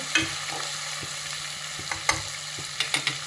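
Onions and ginger sautéing in a pan for mutton head curry, a steady sizzle with several sharp scraping stirs of a spatula near the end, close and alone without talk.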